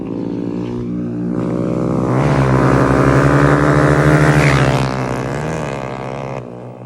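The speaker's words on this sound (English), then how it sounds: "Here comes motorcycles. You won't be able to hear me." Loud motorcycle engines roar past in a group, building to a deep, harmonic drone and fading away as they race by close to the listener.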